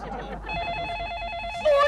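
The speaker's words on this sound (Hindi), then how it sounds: "फोन बजा, कितने दिनों बाद फोन बजा।" A telephone rings in a short burst of trilling electronic tones in an indoor scene, fairly clear and close, lasting about a second.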